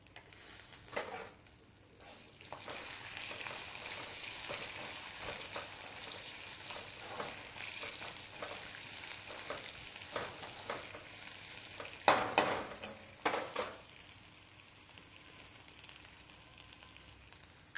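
Ginger and garlic sizzle steadily in hot oil in a pan, a continuous frying hiss broken by a few sharper stirring clatters partway through, close and moderately loud with no talking.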